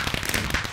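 Fireworks explode in the Minecraft video game as dense crackling and sizzling bursts that fill the short moment steadily and loudly, with no voice over them.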